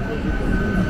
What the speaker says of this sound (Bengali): আমাদের হাওড়া যাওয়ার ট্রেন ঢুকছে